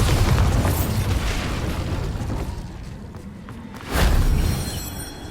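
Bombarda spell explosion in Hogwarts Legacy, a loud booming blast with rumbling decay, followed by a second sharp burst near the end.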